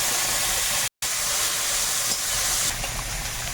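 Prawns hit hot oil with fried dried red chillies and black cumin, giving a loud, continuous hiss and sizzle that cuts out for a moment before carrying on steadily.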